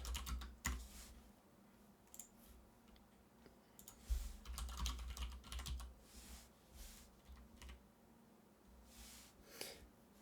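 Keys tapped on a computer keyboard during a Google search, quiet, irregular bursts of clicking with short pauses between them and no voices.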